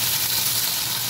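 Potatoes sizzle in hot oil with black cumin and dried chillies, a close, loud, steady hiss with no voices.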